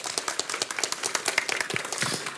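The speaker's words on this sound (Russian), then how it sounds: "Друзья, аплодисменты." An audience at a conference on testing Ansible roles applauds after a talk, a crowd of people clapping in a quick, irregular patter, moderately loud and steady.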